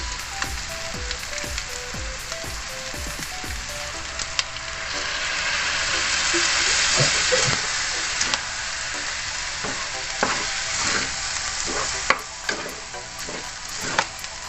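Pork lechon sisig sizzles loudly in a hot pan just after soy sauce goes in, with a steady frying hiss and repeated scraping stir strokes, close and alone.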